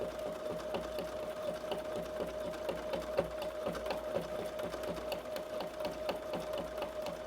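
A sewing machine runs steadily, stitching thread into a photograph in an artist's studio, its rapid needle clatter forming a continuous mechanical whir with a sustained hum throughout and no talking.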